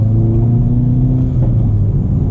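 A cold manual-transmission car engine with a short shifter drones loudly from inside the vehicle, its low hum rising and falling slightly as it pulls along, with steady road rumble underneath.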